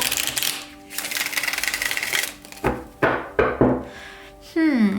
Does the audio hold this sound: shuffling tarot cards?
yes